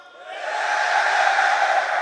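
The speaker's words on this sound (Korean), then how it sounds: "이야, 이 함성 소리 정말 대단합니다." A large crowd of navy trainees at a naval education command roars in sustained cheering and shouting, a dense, loud wall of voices that swells quickly and holds steady.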